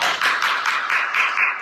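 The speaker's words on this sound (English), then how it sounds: "I think he deserves a round of applause" A small group claps in a round of applause, a brisk steady patter of hand claps lasting under two seconds, close and alone without voices.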